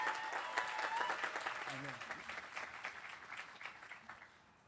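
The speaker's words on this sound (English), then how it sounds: "Let's give a round of applause for everyone that's here to support us." Audience applause at a university commencement ceremony, a steady wash of many hands clapping at moderate distance that gradually tapers off, with a voice speaking briefly over it.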